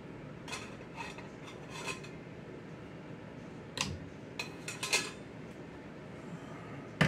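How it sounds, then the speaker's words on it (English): A metal spatula clinks against a key lime pie dish in a home kitchen, several sharp, close taps in scattered bursts over a quiet room background. "All right, let me get a spatula."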